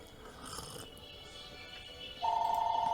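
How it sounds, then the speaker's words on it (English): A telephone starts ringing near the end with a steady, moderately loud electronic tone, preceded by a quiet room with faint background hum and no talking. "That's not for me, the phone call, so I'm going to ignore it for now."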